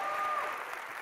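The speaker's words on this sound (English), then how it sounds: "everyone please give Estela a round of applause" Brief, steady clapping from a conference audience, a dense wash of many hands applauding together, fairly soft and distant.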